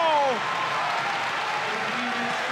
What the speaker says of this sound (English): The crowd going mental here, Mark.